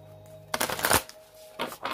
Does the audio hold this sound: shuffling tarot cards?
yes